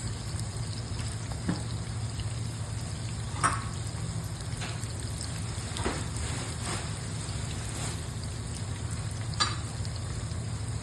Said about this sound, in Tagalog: kailangan kong i-fry yung saging at saka yung patatas